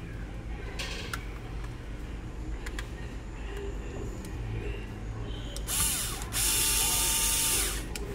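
Screws are driven into a build with a ratcheting mechanical clicking that repeats close by. A sharper, louder burst comes near the end.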